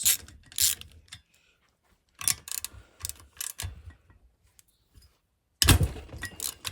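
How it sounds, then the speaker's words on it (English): A ratchet loosens the cylinder head bolts during an engine teardown, its clicking coming in several short, close bursts separated by quiet pauses, with a longer run at the end. "off come the bolts."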